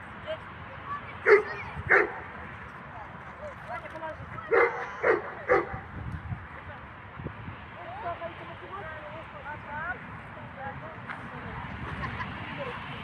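Cane Corso and Rhodesian Ridgeback dogs give a few short barks and yips in two bursts, moderately close, with people talking through much of the scene.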